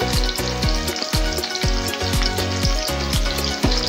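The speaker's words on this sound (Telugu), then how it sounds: "బాగా ఫ్రై అవ్వాలి" Crab curry ingredients frying with curry leaves and onions in a pan, a loud steady sizzle running the whole time with repeated scraping stirs at a quick rhythm, close to the pan.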